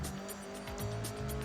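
A 1970s Formula One car in the Assetto Corsa racing game howls at high revs with engine pitch rising and falling through gear changes, tires squealing as it slides through corners, steady and close without speech.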